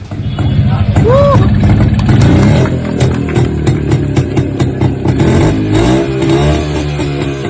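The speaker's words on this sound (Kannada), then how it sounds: "ಕಿಕ್ ಸ್ಟಾರ್ಟ್ ಮಾಡ್ತಾ ಇರೋದು ತಮ್ಮ ಕಾಲೇಜು ದಿನಗಳ ಪ್ರೀತಿಯ ಬೈಕ್" A vintage Yezdi motorcycle is kick-started and revved hard, its engine loud and close with a rattling, rising roar that throbs on throughout, mixed with voices of people nearby.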